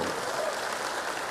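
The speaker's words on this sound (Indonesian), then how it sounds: "Kita berikan tepuk tangan kepada beliau." An audience at a political speech in Indonesia breaks into steady, dense applause, a continuous wash of many hands clapping with no talk over it.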